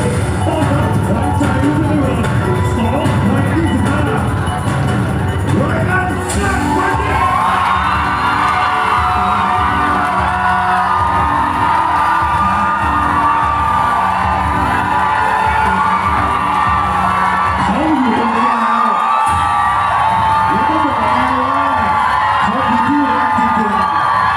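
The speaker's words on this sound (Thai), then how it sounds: "ขอเสียงปรบมือ" Audience at a live concert in a shopping mall cheers, whoops and shouts loudly in a sustained crowd roar, with music and amplified sound running underneath, continuous and close for the whole stretch.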